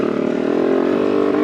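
A Honda CR80 dirt bike engine with a carburetor that runs rough in the transition zone drones loudly and up close, holding a steady buzzing rev with no talking.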